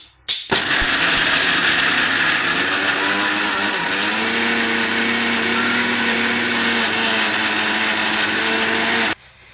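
A mixer grinder whirs loudly and continuously for about nine seconds grinding raw mango and onion chutney, starting abruptly and cutting off at the end, with a steady high-pitched motor drone.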